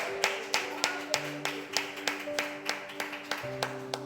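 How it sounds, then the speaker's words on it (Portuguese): A church congregation clapping in praise of Jesus: a steady, evenly spaced run of rhythmic claps, fairly faint and distant, over sustained organ or keyboard chords. "Glorifica Jesus com a aplauso,"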